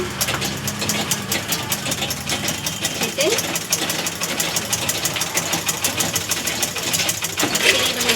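A sewing machine stitches the handle onto a fabric bag, a fast continuous mechanical chatter under steady talking nearby.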